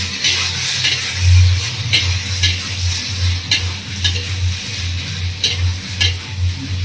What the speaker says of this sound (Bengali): নাড়াচাড়া করে দিচ্ছি।